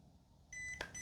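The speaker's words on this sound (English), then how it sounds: "it beeps twice. That's what turns it off." A Nelko Bluetooth label maker gives short electronic beeps as it powers off, faint tones rising over quiet room hum, with a brief brighter click between them.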